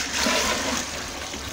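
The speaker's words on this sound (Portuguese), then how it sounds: "Agora eu venho com a água fria e vou colocar." Cold tap water rushes steadily into a large bucket of homemade soap, a continuous close pouring and splashing wash with no voices.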